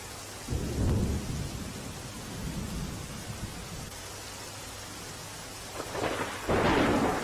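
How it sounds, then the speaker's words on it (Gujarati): Heavy, unceasing monsoon rain in Porbandar, a constant hiss of downpour with low rumbles of thunder rolling in near the start and again toward the end. "અનરાધાર વરસાદ વરસી રહ્યો છે"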